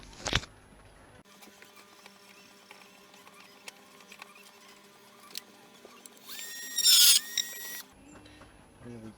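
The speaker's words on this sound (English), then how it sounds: "What are you doing, Dremel?" A battery-powered Dremel rotary tool whirring in a workshop during work on a Hayabusa motorcycle, a thin steady whine broken by short bursts and a louder high squeal near the end, with clicks and pauses around it.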